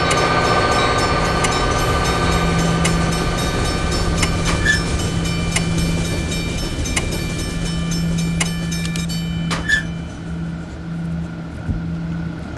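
A train rolls past a level crossing in the Railway Crossing Creator game, a steady simulated rumble of rail cars with faint clickety-clack and a ringing crossing bell, fairly loud and continuous before easing off near the end.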